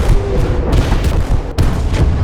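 Artillery shells exploding in a WWII real-time strategy game, dense, loud booms and rumbling blasts that overlap continuously, with heavy low-end impacts and no talking.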